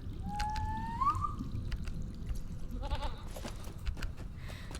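A goat mount in the online game Lord of the Rings Online gives a short wavering bleat, followed by soft dripping and pouring water sounds in a quiet, creepy setting.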